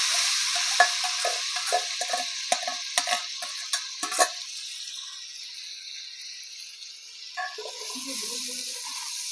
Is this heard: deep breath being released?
no